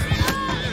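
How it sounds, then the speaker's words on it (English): A horse in Mount & Blade II Bannerlord multiplayer siege battle gives a short, sharp whinny up close, with faint hoof clatter beneath. "The horse."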